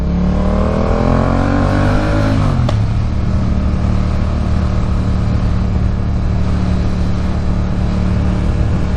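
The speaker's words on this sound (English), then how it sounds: "Come down here at night sometimes, and my goodness me, the traffic down here." A Yamaha MT07 motorcycle engine revs up and then drops to a steady loud drone, riding through road traffic at night; the roar is close and continuous.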